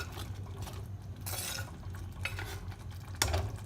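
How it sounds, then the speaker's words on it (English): A spoon stirs red guava curry in a pan, with soft scraping strokes in a few bursts over a low, gentle simmer. "Give it a good stir."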